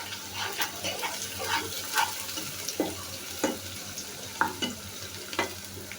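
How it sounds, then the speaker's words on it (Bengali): Chopped onion frying in hot oil in a pan for a village-style fish curry, a steady close crackle with several sharper stirring scrapes at intervals and no talk. "এখন আমি এর মধ্যে পেঁয়াজ কুচিটা দিয়ে দিচ্ছি। পেঁয়াজ কুচিটা একটু ভেজে নিচ্ছি।"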